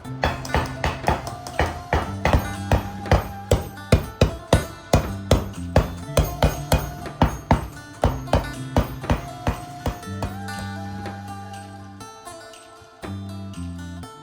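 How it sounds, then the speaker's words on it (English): A large wooden hammer strikes a copper plate during embossing in a steady series of loud, ringing blows, about two per second, with metallic resonance sustaining between hits and the rhythm loosening toward the end. "final strikes are delivered with a large wooden hammer"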